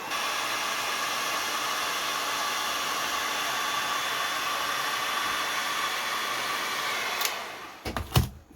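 Heat gun blowing on a Mercedes headlight lens cover, a steady loud airy roar for most of the clip, then cutting off into a few brief clunks and handling sounds.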